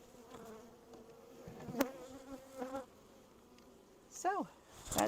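Honey bees buzzing around an opened hive during a beginner's hive check, a steady close insect drone with several louder swells as individual bees fly past the microphone.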